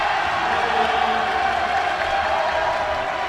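Pioneers fans in a home crowd at a Lewis & Clark College basketball game roar and cheer in a steady, sustained wash of crowd noise with no breaks.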